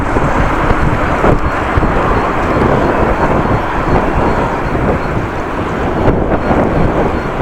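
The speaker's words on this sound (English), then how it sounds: "Wow, the wind is still blowing," Strong wind buffets the microphone while riding a bike outdoors in warm weather, a loud, continuous low roar and rumble with gusty fluctuations across the whole stretch.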